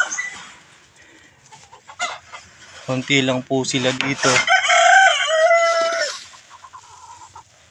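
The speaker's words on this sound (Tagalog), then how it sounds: "wala na pong ibang manok dito kundi yung ating mga warrior" Chickens cluck and a rooster gives a short crow at close range, with a brief spoken phrase at the start.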